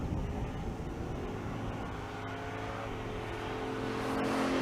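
Pair of Mopar big-block drag cars, including a 1967 Dodge Coronet 500, roar down a drag strip, a rising, distant engine drone that builds slightly toward the end.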